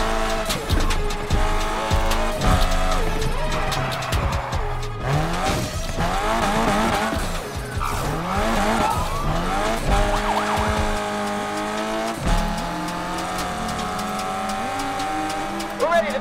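A Nissan tears through a Need for Speed Unbound police chase, its engine roaring steadily as tires squeal and skid through repeated hard turns, loud and close, with radio voices cutting in at times.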